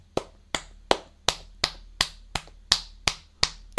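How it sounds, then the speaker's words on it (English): Thigh clapping in a Game of Thrones scene: about ten sharp, fleshy slaps at a steady rhythm, each one loud and close with a quick decay. "You hear the thigh clapping, Rachel."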